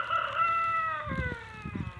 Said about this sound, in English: It's a chicken, a rooster.